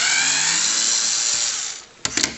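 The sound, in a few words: unscrewing TRS-80 video board screws with a screwdriver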